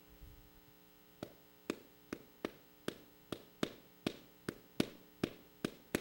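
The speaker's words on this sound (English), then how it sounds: "And the bambula rhythm sounds like this." The bambula, a New Orleans rhythm, is demonstrated as sharp, evenly paced taps or claps, about a dozen strikes over a steady low mains hum, close and distinct with no talking.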